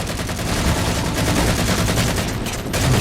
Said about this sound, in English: Start with the assault rifle.